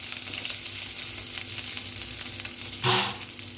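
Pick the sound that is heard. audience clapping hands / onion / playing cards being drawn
onion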